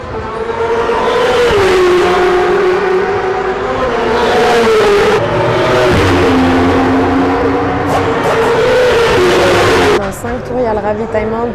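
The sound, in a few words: racing motorcycle passing at 24-hour endurance race in Belgium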